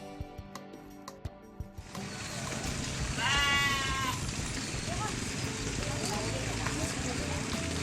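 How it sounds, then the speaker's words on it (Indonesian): Garut sheep bleat at a livestock farm in Sukabumi, West Java, with a clear wavering bleat rising over a dense, steady bed of farm noise and many animals, after a few soft knocks at the start. "saya berkesempatan mengunjungi peternakan domba Garut yang dikembangkan para pemuda di Desa Palasari Girang"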